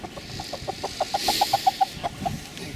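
Chickens clucking close by in a quick run of rhythmic clucks that rise to a louder burst in the middle and then trail off, with faint background noise.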